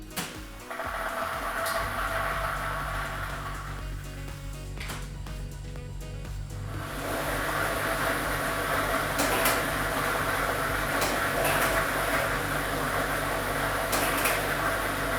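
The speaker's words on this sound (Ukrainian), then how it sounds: "ми вмикаємо лототрон" Lottery drawing machine (set B, ball set number 2) switched on at a televised draw, a steady mechanical whir and rattle of tumbling balls that starts after a brief pause and continues loudly throughout.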